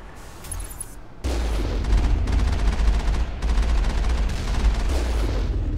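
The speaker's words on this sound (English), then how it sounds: "The other one's still shooting at us." Sustained enemy gunfire in the Mass Effect video game, dense rapid bursts of shots that begin abruptly after a quieter second and keep up at a loud, steady level with brief dips, no talking over them.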